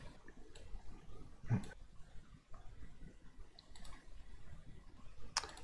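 Two sharp mouse clicks on the Next button of a software installer on a Windows computer, well spaced in a quiet room with a faint background hiss.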